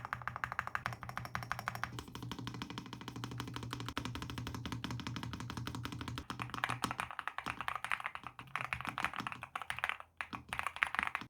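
Steady, fast typing on a NuPhy Halo65 V2 mechanical keyboard with Lemon and Raspberry switches, a close, continuous run of crisp keystrokes with no voices.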